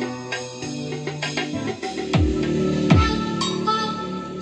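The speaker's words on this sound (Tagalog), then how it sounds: "Opo yung tunog ni mini amp." Music plays through a mini amplifier connected to a mixer, a full steady mix with bass swoops and treble hits at moderate volume, with no voices.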